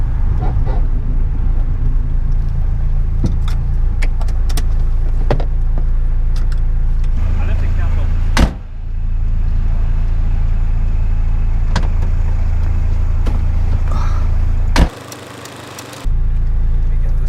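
A Skoda Fabia VRS Mk1 with a 1.9 diesel drives along, its engine a steady low drone heard from inside the cabin, with occasional clicks and a few brief dips in level.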